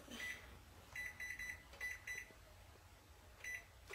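Electronic oven control panel beeping as the temperature is set down from 370 to 350 in a home kitchen: short high beeps in quick clusters, then a pause before another pair, over faint room hum.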